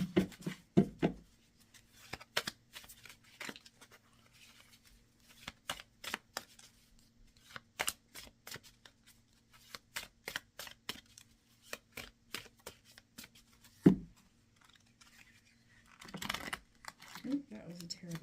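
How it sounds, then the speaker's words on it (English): Tarot cards riffled and shuffled by hand in quick, irregular bursts of papery flicks and slaps, close up, with scattered pauses and soft handling noises between runs. "That was a terrible shuffle."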